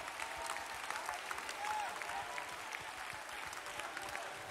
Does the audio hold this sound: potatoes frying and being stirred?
no